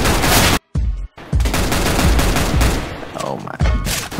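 Rapid gunfire in Counter-Strike: Global Offensive, a loud close burst of repeated shots with brief gaps between groups, ending in a few more single cracks.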